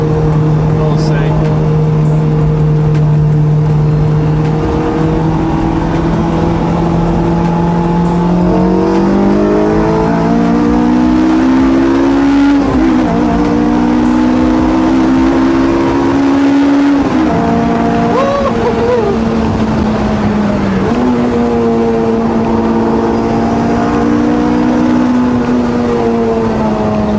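A freshly restored car accelerates along a straight, its engine note climbing in stepped pitches through several gear changes, loud and close throughout, with voices talking over it.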